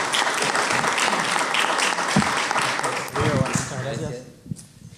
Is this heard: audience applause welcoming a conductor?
yes